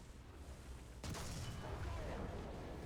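A T-34 tank is destroyed in the War Thunder video game: a sudden loud burst of explosion noise cuts in over engine rumble and holds as a roaring wash.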